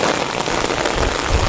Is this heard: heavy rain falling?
yes